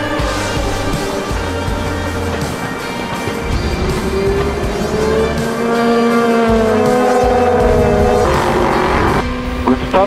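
Race cars roar away at the start of a European Le Mans Series race at Le Castellet, loud engines climbing through the gears in rising, overlapping tones that fill the whole stretch, with faint voices under the din.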